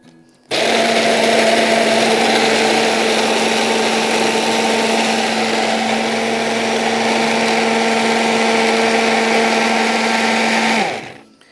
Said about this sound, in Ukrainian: зараз буду збивати це все